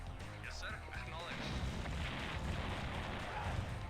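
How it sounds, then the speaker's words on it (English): Massive fuel explosion in the C&C Red Alert video game, heard as loud rumbling booms and crashes amid dense continuous battle noise, with game voices speaking over the mix. "The Ranger actually survived that massive fuel explosion."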